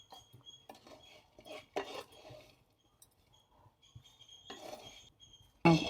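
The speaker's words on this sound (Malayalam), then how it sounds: "ഇനി വേറെ പാത്രത്തിലേക്ക് ഒഴിക്കാം" Fried dried prawns are tipped from a pan into another dish with scattered metallic clinks, scrapes and brief rattles. Quiet gaps separate the bursts, and a loud clatter comes at the very end.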